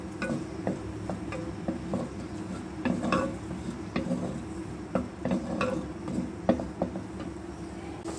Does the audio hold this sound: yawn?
no